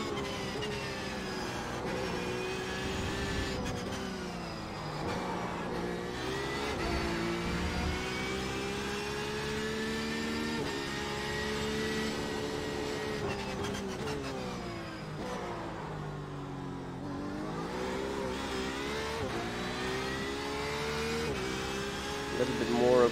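A Porsche 911 RSR GTE race car in the iRacing sim at Suzuka, its engine wailing steadily and swooping up and down through gear changes and corners, loud and continuous across the lap section.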